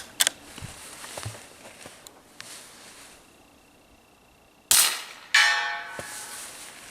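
A suppressed 9mm bolt-action rifle fires at a steel target 100 yards away in quiet, cold winter air: faint early clicks and handling, then a sharp report followed moments later by a second ringing crack of the steel being struck.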